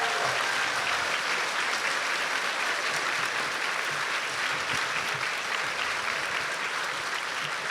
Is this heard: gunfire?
no